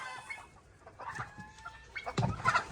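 Desi chickens cluck in a small home poultry farm, with several short close clucks and squawks growing busier toward the end against a quiet background.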